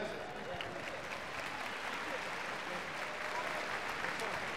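A fight crowd applauding Kai Asakura's knockout win at a RIZIN mixed martial arts event, a dense, steady roar of clapping filling the arena from start to finish.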